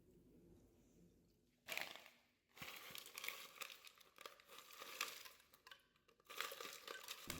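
Ice cubes tumble into a pitcher of oat milk and strawberry puree, giving loud crunching, clattering bursts in several separate pours with brief pauses between them.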